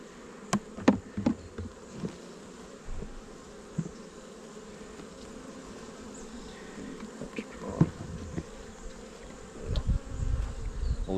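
Honey bees in an opened hive being packed down for winter, a faint low steady buzz with scattered wingbeat drones and occasional sharp knocks and clicks from the hive boxes, no voices.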